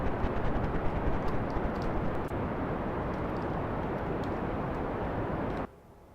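A rocket engine roars at full throttle in Kerbal Space Program, a loud, steady broadband rumble with faint crackle that holds evenly, then cuts off abruptly near the end, leaving near silence.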